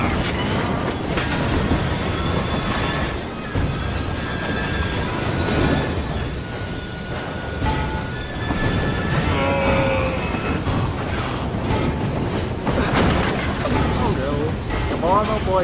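A train in Assassin's Creed Syndicate rumbles and clatters continuously at close range, with metallic squeals and booms, while voices talk and shout over it.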